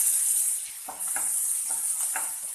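Crushed shallots and garlic with curry leaves hitting hot oil for a Kerala raw jackfruit curry, producing a steady bright sizzling hiss close by with faint soft stirring knocks underneath.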